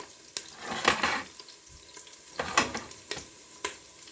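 Garlic cooking in a pot for sink soup: soft steady sizzle with intermittent scraping stirs and small clinks, close and fairly quiet, with no talking.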